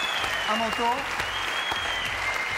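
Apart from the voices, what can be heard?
audience applause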